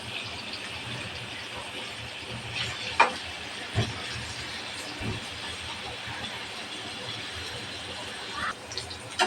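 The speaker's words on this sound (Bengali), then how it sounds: "তেল গরম হয়ে গেছে, দিয়ে দেবো আলু।" Potatoes fry in hot oil in a pan, a steady low sizzle with a few clinks and stirring knocks.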